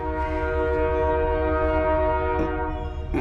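A passing train sounds a loud, sustained horn that blares continuously over the low rumble of the rail cars, close and alone with no voices.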